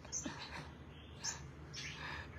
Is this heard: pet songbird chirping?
yes